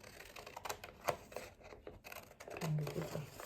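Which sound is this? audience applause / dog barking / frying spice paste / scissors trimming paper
scissors trimming paper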